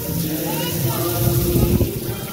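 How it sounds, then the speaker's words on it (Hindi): A waterfall splashes steadily into a lit lake at Chansad Narayan Sarovar, a continuous broadband rush of falling water that swells slightly toward the end of the clip. "यहाँ पे झरना भी गिर रहा है"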